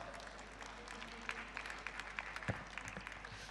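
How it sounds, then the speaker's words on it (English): Audience applause at a Grade 10 valedictory ceremony, a steady wash of clapping from a crowd in a hall with a few sharper nearby claps standing out. "Give them a big round of applause."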